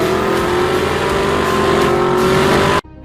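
Supercharged 6.2-liter V8 of a Chevrolet Camaro ZL1 1LE muscle car, a loud steady engine drone holding a near-constant pitch for nearly three seconds before cutting off abruptly.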